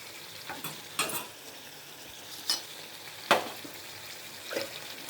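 Gongura chicken frying in oil in a pan, a quiet bubbling sizzle broken by several sharp scraping stirs of a spoon at uneven intervals, close by, with no voices.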